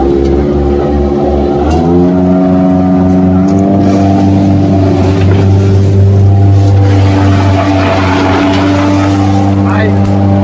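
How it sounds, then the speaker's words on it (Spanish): A tractor engine starts in a farm field and settles into a loud, steady rumbling idle, heard close up with people talking nearby. "El viejo ya arrancó el camión, el tractor, perdón."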